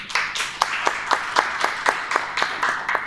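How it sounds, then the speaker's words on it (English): A steady round of clapping from a workshop audience, with regular sharp hand claps repeating about every quarter second, moderately loud and close, with no voices. "So please, a round of applause for that."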